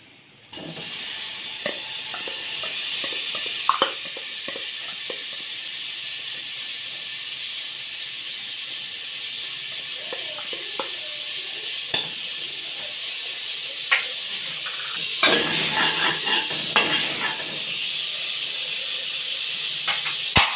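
Star margarine melting in a hot pan gives a loud, continuous hissing sizzle that holds steady throughout, with occasional sharper pops and crackles.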